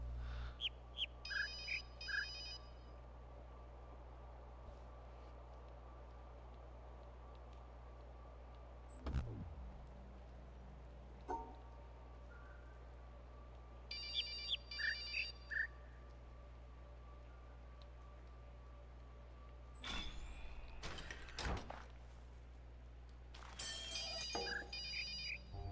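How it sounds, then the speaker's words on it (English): A telephone rings inside a video game, repeating in short trilling bursts near the start, in the middle and toward the end over a quiet background hum, with a few brief thuds and swooshes in between. "Why is there a phone ringing?"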